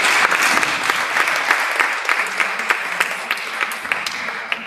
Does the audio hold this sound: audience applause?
yes